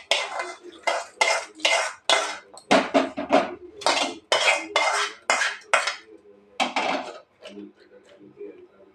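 A spoon scrapes and clinks against a pan and bowl while tempering is stirred into peanut chutney, a run of quick rhythmic metallic taps close by, then fading to quiet.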